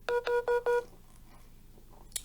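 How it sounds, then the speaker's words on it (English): A mobile phone goes off nearby with four short, evenly spaced electronic tones, loud and clear, followed by quiet room sound and a faint click. "that's my phone going off."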